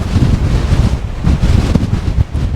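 Strong wind on the Cornwall cliffs between Lizard Lighthouse and Kynance Cove buffets the microphone in loud, low gusts, with surf faintly mixed in at high tide.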